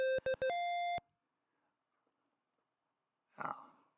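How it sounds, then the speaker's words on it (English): A laptop's virus scanner sounds an alert: three short electronic beeps followed by a longer sustained tone, then quiet and a brief noisy burst near the end. "The laptop's virus scanner likes to chime in at inopportune times"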